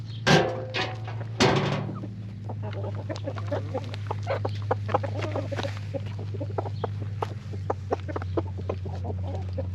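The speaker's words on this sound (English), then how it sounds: "that was the rooster that's lowest on the totem pole" A rooster crows loudly near the start on a homestead, followed by chickens clucking in a busy flock through the rest, with scattered nearby calls over a steady low background hum.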